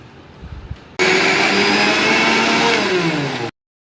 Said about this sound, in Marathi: आता हे सगळं मी मिक्सरमधून वाटून घेणार आहे